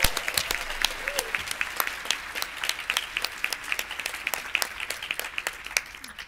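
A conference audience at an opening session claps in a dense, steady round of applause that fills the whole stretch at moderate loudness, with no distinct cheering standing out above the clapping.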